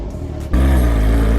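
A car fitted with a loud aftermarket exhaust bursts into a deep, rumbling rev after a brief quieter idle, staying loud and close to the end.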